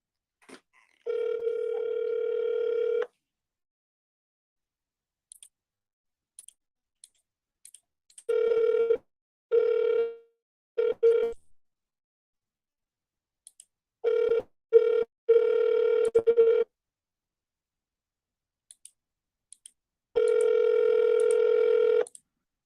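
A telephone ringback tone sounds during a call back, several steady long buzzes separated by silences, with a few faint clicks in between.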